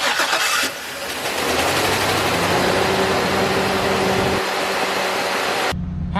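Chevy Silverado 2500 4x4 engine with about 169,000 miles cranking and then catching, settling into a loud, steady running rumble close by before cutting off abruptly.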